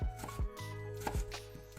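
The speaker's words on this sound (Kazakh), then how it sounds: "Колбасаны екіге бөліп, шпұрыштай етіп тураймыз." A knife chopping sausage into pieces for a salad: several sharp, close thuds against a cutting board at an uneven pace, with quiet pauses between cuts.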